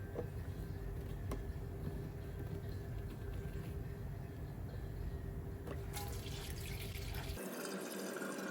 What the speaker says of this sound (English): get all the oil draining to start with